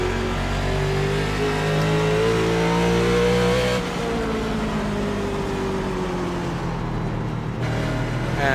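NASCAR National Series race car engine in iRacing at Irwindale, a loud sustained roar with rising and falling revs, dropping briefly partway through as the pitch shifts, without talk.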